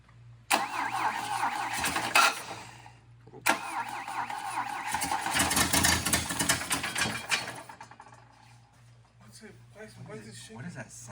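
A 1966 Volvo Amazon wagon engine cranks and catches in two loud bursts, revving and running unevenly with loose header bolts, then settles and fades; voices talk nearby around the engine noise.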